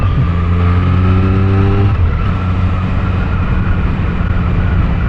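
Triumph Street Triple 765RS motorcycle, a 2024 super naked bike, roars steadily while being ridden, its engine note holding loud and close with a rising harmonic whine in the first two seconds before settling into sustained road and wind noise.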